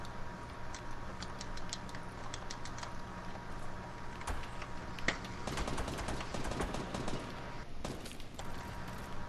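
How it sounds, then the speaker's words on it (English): Gunfire in Fortnite Battle Royale, a scatter of sharp distant shots and quick rattling bursts, fairly faint, over a low steady background hum. "Who's shooting?"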